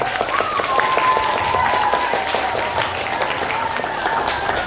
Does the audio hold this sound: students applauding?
yes